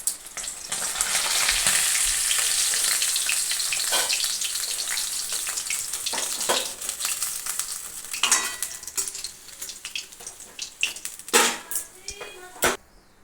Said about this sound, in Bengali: বাদ বাকি মাছগুলো এইভাবে ভেজে নেবো।